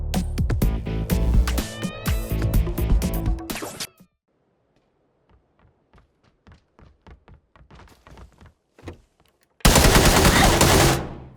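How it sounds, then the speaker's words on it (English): Rapid loud gunfire from a QBU marksman rifle in PUBG opens the scene, followed by a quiet stretch of soft irregular taps and thuds, then another loud burst of shooting near the end. "This is the new rifle in PUBG, the QBU."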